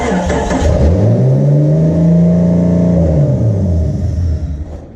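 A Willys truck engine turns over and catches with a flick of the key, then revs up and settles back down, loud and close with a deep rumbling tone.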